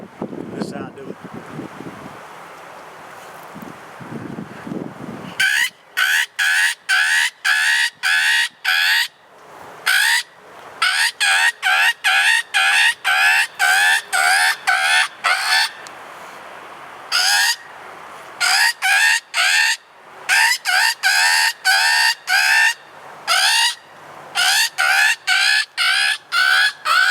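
A blue jay distress cry is imitated by a person on a Slash series predator diaphragm call. After a few seconds of rustling, loud harsh squalls come in rapid bursts of repeated notes, very close to the microphone.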